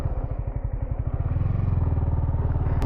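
A Yamaha R15 motorcycle, standing unused for about a year and fitted with a new battery, starts with a rapid clattering crank that catches into a steady, close idle thump.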